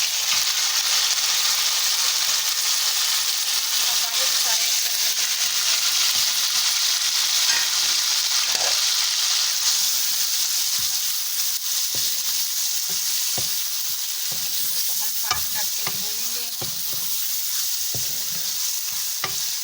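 Tomatoes sizzle and fry in a pan with lightly browned onion and garlic for a chane dal, a steady close hiss with scattered stirring clinks and scrapes throughout and no voices.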